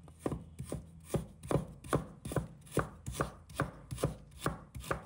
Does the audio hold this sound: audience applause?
no